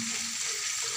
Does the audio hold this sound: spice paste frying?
yes